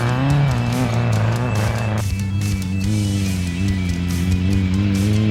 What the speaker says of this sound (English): Some more sideways action by Andre Vermeulen Jr. in the little 1600 buggy that he built himself.